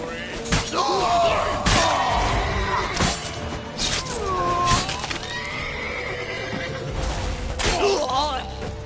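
A horse neighs and whinnies repeatedly in The Witcher 3, with hoof clip-clops, thuds and combat clatter mixed in during a tense chase through a city, all loud and close.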